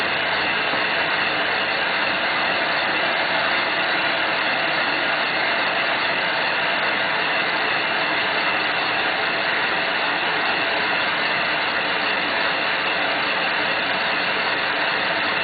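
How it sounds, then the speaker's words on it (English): A resurfaced player piano air motor in good condition runs on about two inches of vacuum, giving a steady, continuous whirring rush that holds an even level throughout, with no voices. "And the motor will work on 2 inches of vacuum."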